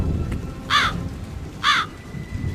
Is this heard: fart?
no